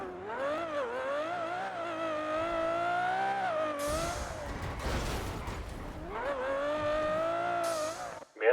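A blue car passes on a street, its engine tone rising and falling with revving, a broadband whoosh in the middle as it goes by close, then the engine note returns steady to the end.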